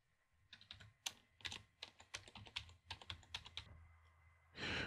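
A password being typed on a computer keyboard while setting up SSH key authentication for a Linux server: a quick run of close, distinct key clicks with brief pauses, then a louder rustle at the end.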